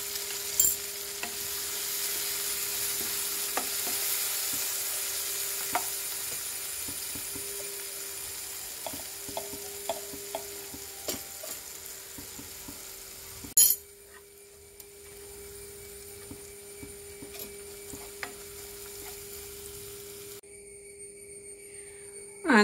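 Tomato and Kashmiri chili powder sizzle in a pan for a prawns roast, a steady frying hiss with occasional stirring clicks and scrapes, running alone with no voices.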